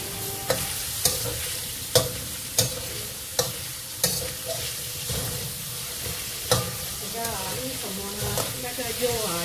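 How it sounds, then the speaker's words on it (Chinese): Pork belly stir-fried in a wok, a continuous loud sizzle punctuated by regular sharp scraping clanks of the spatula roughly every half second, faint voice near the end. "可以大力的翻炒它。"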